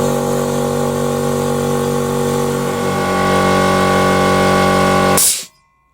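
A workshop air compressor's engine runs steadily and loudly while filling its tank, with a droning hum and a strong tonal whine, then cuts off abruptly near the end into silence.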